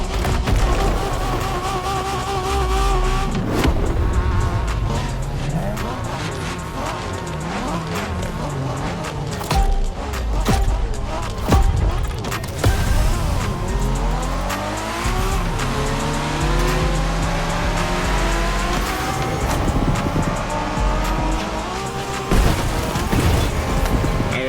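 Cars racing in the video game The Crew Motorfest during Japanese street racing, engines revving hard and shifting through gears with repeated tire squeals and skids, loud and continuous throughout.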